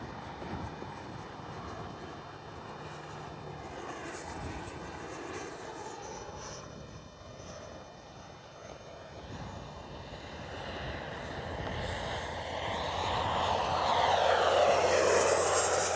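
An Arrows RC F-15 64mm electric ducted fan jet model in flight, its steady whooshing whine droning on continuously and building louder toward the end as the plane passes nearer, with no talking over it.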